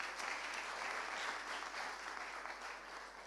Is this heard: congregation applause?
yes